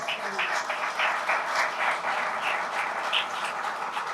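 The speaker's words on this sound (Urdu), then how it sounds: "اس کے کفارے کے لیے زوردار تالیاں بجائیں" Congregation at an Urdu-Hindi church sermon breaking into sustained, lively applause, a dense clatter of many hands clapping throughout at an even level.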